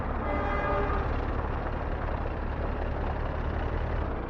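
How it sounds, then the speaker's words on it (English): A freight train in the city-building game Workers & Resources: Soviet Republic rumbles steadily under a low, continuous engine drone, with a faint horn-like tone early on, loud and close throughout with no voices. "I heard a train."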